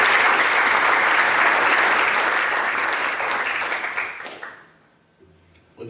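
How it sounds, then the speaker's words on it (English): An audience applauding at a high school fine arts signing day, a dense burst of many hands clapping that holds steady for several seconds and then tapers off to near quiet. "We'll give her a round of applause."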